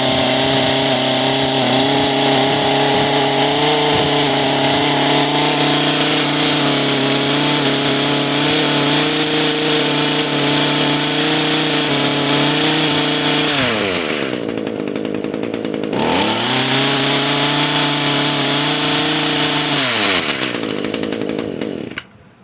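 An Echo HC-150 hedge trimmer engine, oily and smoking after carburetor and fuel line repair, runs at full throttle: a loud, close, buzzing two-stroke whine that dips briefly twice and then recovers before cutting off abruptly at the end.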